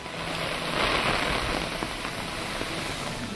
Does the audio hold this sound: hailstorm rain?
yes